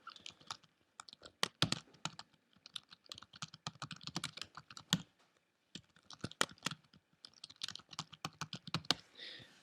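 Fingers type on a computer keyboard at close range, producing bursts of quick crisp key clicks separated by short pauses, with no talking.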